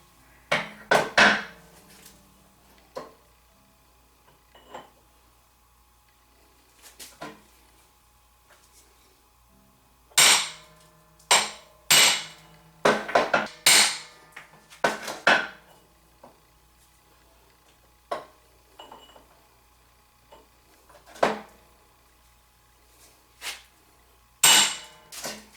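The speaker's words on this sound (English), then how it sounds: "This is an old drive shaft out of a God knows what, and this is, well, a ball-peen hammer." Ball-peen hammer striking an old drive shaft, sharp metallic clanks arriving in irregular clusters and single blows, some quick runs of several hits in a row, close and loud with quiet gaps between.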